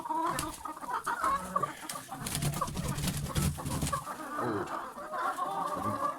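A flock of laying hens clucks and chatters up close inside a coop, with a steady busy mix of calls and no voices.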